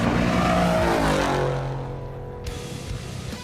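An unlimited-class race truck at the Baja Nevada desert race roars loudly at full speed, a dense engine drone that fades and drops in pitch as it passes and moves away.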